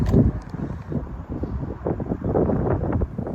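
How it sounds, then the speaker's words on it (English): Gusty wind outdoors at an archery course in Arrowhead State Park, Oklahoma, roaring and buffeting the microphone in continuous low surges that rise and fall. "The wind is whipping today."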